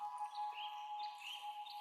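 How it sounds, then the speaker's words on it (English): Soft bird chirps and tweets drift faintly in the distance over a steady sustained flute tone and gentle water, part of a calm meditative soundscape. "and the bird song"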